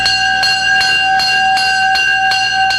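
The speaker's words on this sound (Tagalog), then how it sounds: "tinuruan din ang mga batang tumakbo palabas ng gusali sa unang tunog pa lamang ng bell na ito" A fire drill bell at a children's home rings in steady, repeated strokes about every third of a second, loud and continuous with a bright metallic ring and no voices.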